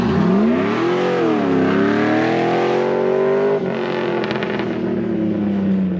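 A race car engine without nitrous revs and accelerates hard, its pitch rising, dipping and climbing again in a loud, continuous roar that stays close for several seconds.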